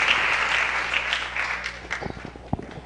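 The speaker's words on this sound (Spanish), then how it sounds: "brindar últimos fuertes aplausos" A church congregation claps loudly at a live Resurrection service, the applause strong at first and then thinning out, leaving a few scattered claps and soft background noise.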